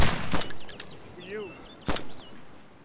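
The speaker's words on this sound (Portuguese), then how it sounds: "vou fazer tiro ao alvo com os gajos" Gunshots in the video game DayZ: two sharp, loud single shots about one and a half seconds apart, with whistling tones and a voice in between.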